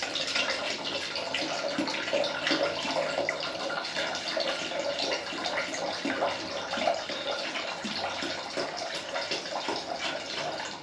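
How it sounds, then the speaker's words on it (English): Coolant, antifreeze concentrate mixed with deionised water, pours steadily into the cooling system of an Aprilia RS4 motorcycle, a continuous close splashing trickle that runs the whole time without pause. "let's get this filled up with new coolant"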